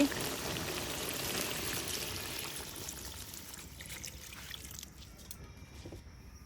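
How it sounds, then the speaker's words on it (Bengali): Water pours into a cooking pot holding bottle gourd, a steady close trickle and splash that gradually tapers off and stops near the end. "এবার জল দিয়ে দিচ্ছি"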